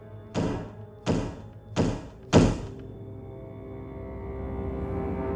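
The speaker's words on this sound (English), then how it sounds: "the doors to each room started closing by themselves with great force" Doors slamming shut by themselves with great force as a horror audio drama effect: four heavy, booming thuds in quick succession, the last loudest, followed by a low lingering hum.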